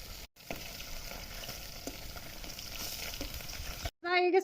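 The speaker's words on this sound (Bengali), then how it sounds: "ছোট মাছ ভাজা" Small fish fry in hot oil in a home kitchen, a steady, close crackling sizzle that runs on evenly with a few brief breaks in the sound.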